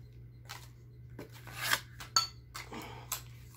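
Pink plastic nesting bowls in three sizes are picked up and set down on a surface, producing a handful of separate light clacks and knocks, close and fairly quiet, with no voices.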